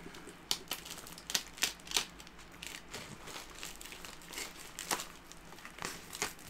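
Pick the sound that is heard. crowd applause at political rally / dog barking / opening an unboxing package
opening an unboxing package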